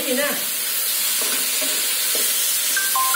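Corn stir-fried in a pan for a vegetarian Chinese New Year dish gives a steady, loud hiss of sizzling oil, with voices talking faintly over it now and then.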